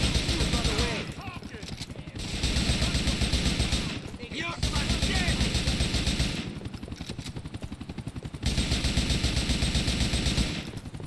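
Automatic gunfire in the video game Grand Theft Auto 4 rattles in long, loud bursts separated by short pauses, with a voice briefly heard between volleys.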